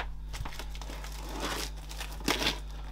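Scissors open a package in a quiet room: close, faint crinkling of plastic wrapping and a few short tearing rips over a low steady hum.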